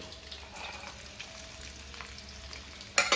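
A fish pickle mixture sautés in a pan with a soft, steady sizzle, faint and fairly distant, ending in a brief louder clatter. No voices are heard.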